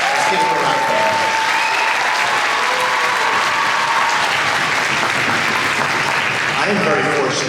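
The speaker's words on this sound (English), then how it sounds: "let's give him a round of applause" A school band concert audience applauds band director Mr. Barnes, a loud, dense wash of clapping from a full hall that holds steady throughout.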